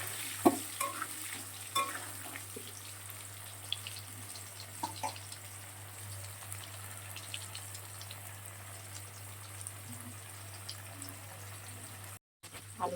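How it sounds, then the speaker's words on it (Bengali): Potato pieces with turmeric fry in a pan, giving a low, steady sizzle with scattered stirring clinks and scrapes throughout; the cooking noise stays quiet and even, with no talking. "একটু হলুদ দিয়ে দিলাম, আবার আলুটা একটু ভেজে দিলাম, লাল লাল করে বেশ ভেজে নেব"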